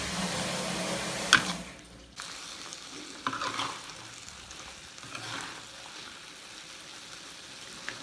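A Thai sweet and sour stir-fry with tomatoes sizzling in a pan, a spatula clack early on, then quieter frying with intermittent stirring scrapes and no talk.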